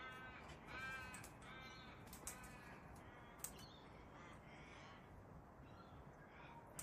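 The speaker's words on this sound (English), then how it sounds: "You can hear ravens and cockatoos in the background." Ravens and cockatoos call from somewhere in the background, with a few faint harsh caws and squawks rising briefly over a steady outdoor hiss.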